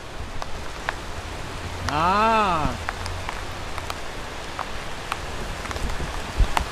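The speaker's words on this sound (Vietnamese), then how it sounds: "Ôi, chắc mưa quá rồi." Rain patters steadily onto a Vietnamese apricot blossom garden and its bonsai trees, a soft continuous hiss with scattered drops, while a voice talks briefly over it.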